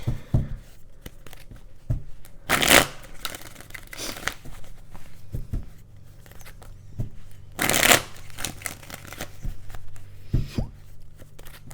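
A deck of tarot cards being shuffled close up, with two loud riffling bursts between softer handling taps and rustles.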